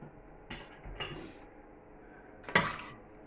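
A spoon clinks and scrapes against a metal pan while candied melon peel is stirred, giving three sharp, close metallic knocks spaced irregularly over a quiet kitchen background with no talk.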